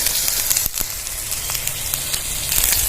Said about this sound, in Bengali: টমেটো দিয়ে দিলাম তেলে